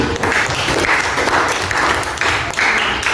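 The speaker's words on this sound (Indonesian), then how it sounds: "Berikan aplaus." A classroom of students at an Islamic junior high school claps after a group presentation, with dense, steady applause filling about three seconds at close range, with no talk over it.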